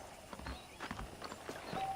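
Horse hooves clip-clop in the Red Dead Redemption video game, a quiet run of soft rhythmic footfalls on the ground over about two seconds, with faint ambient background.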